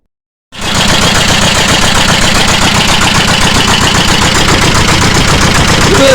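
A car engine cranks and catches after a brief silence, then runs steadily with a loud, close, rough idle and a rapid knocking pulse, no talking over it.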